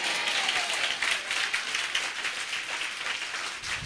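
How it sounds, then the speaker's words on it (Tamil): A church congregation applauding during a Tamil sermon, dense, bright clapping from many hands, steady and fairly close throughout. "விசுவாசமான ஒரு கைத்தட்டு"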